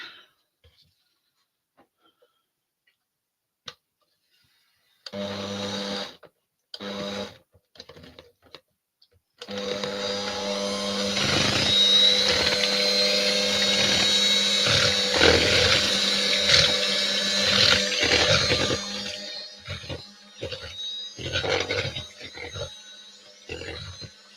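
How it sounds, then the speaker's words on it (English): Batter for hot chocolate cupcakes being whisked in a bowl, a busy, steady clatter and scrape that begins after a few seconds of near silence and runs on without talk. "So we're going to whisk this together."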